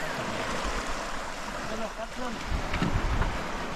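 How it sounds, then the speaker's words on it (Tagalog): Waves wash and splash against a boat amid gusting wind noise, with a person's voice briefly audible underneath. "Yung alon lang kasama yun."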